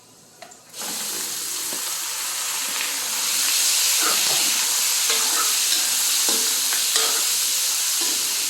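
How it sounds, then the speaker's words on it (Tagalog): Meat sizzles and hisses steadily in a hot pan, sautéed for a Filipino upo gourd dish, with occasional stirring clinks over a continuous frying hiss. "Ngayon, iulog na natin itong karni, mga kaaro."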